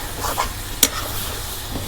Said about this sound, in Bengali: এই দেখো কি সুন্দর করে ভাজা ভাজা করছি, একটু তলে পানি নাই